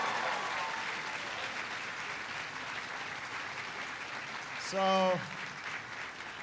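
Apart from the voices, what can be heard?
audience applause for Nelson at Obama speech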